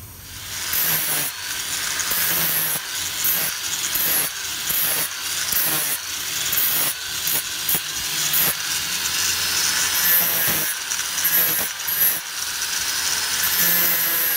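A power grinder whines against a metal bolt in repeated bursts, pausing briefly between passes, close and loud with a harsh high-pitched hiss.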